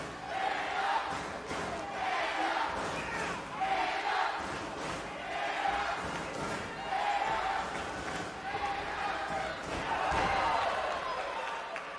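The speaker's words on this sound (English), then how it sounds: "You hear the crowd chanting, "Man up!"" Wrestling fans in an arena crowd chant in a steady rhythmic pulse during a tag-team bout, loud and continuous with swells every second or so, and a commentator's voice runs over it.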